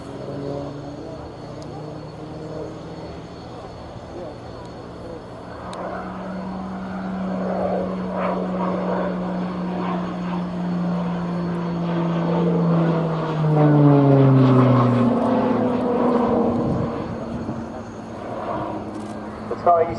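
A Tucano turboprop training aircraft flies past at an air show, its engine drone rising and falling in pitch with a Doppler shift, loudest near the middle and end, under background crowd noise.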